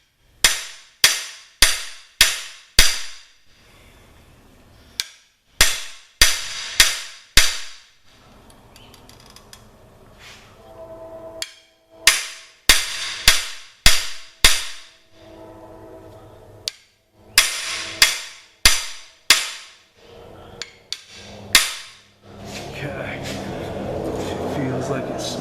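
A cam bearing is driven into a 396 big block Chevy engine with a series of sharp metallic hammer blows, struck in quick bursts of several hits separated by pauses, close and loud.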